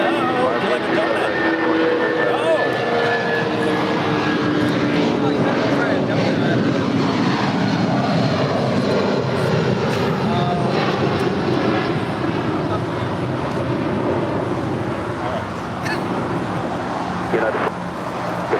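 An airliner taking off from runway 25 right at LAX, heard as a loud, sustained jet engine roar that holds for the whole stretch, with a shifting whine layered over broadband rumble.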